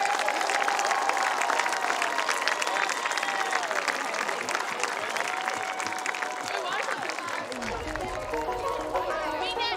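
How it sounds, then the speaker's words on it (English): Crowd at a home high school football field applauds and cheers for the seniors during pregame, a steady dense roar of clapping and chatter throughout. "let's give a big round of applause for each of these individual"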